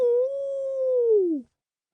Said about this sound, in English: That's the cry of dire wolves.